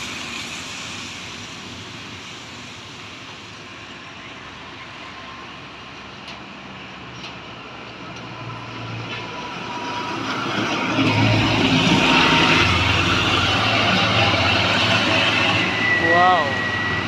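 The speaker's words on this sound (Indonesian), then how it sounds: "Masih banyak truk yang lewat teman-teman." Heavy trucks roll past on a road, a steady engine and tyre roar that swells louder toward the end as vehicles go by close, with traffic noise throughout.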